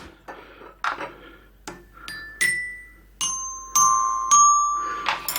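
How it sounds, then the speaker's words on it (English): A xylophone played by a micro:bit sounds a slow sequence of single notes, each struck crisply and ringing briefly, rising in pitch across the phrase. "And we've got it on the xylophone."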